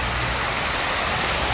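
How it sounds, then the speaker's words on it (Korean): A waterfall pours down beside a Gwanaksan mountain trail, giving a steady, dense rushing roar that stays close and even for the whole brief moment, with no voices over it. "또 폭포가 또 멋지게 쏟아져 내리고 있네요"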